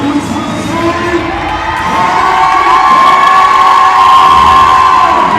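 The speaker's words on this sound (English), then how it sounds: "Huge applause for the seniors taking the floor for the Blue Jays." A home crowd at a women's college basketball senior-day game cheers loudly and continuously, with shouts and high-pitched whoops in a gym, swelling toward the end.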